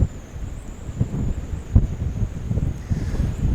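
Strong wind buffets the microphone on a seashore while fishing for sea bass, a steady low roar with gusty thumps and surges throughout, close and loud, with no talking.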